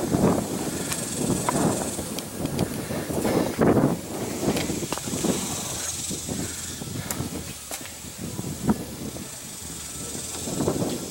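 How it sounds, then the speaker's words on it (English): Strong outdoor wind roars and hisses steadily in gusts, loud and close against the microphone, with no clear voice. "Wind's picking up, so you may not be able to hear me."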